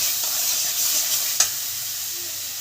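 Spices for a duck egg curry frying in a pan, a steady hiss and sizzle close by with one sharp utensil knock partway through, with no talk over it.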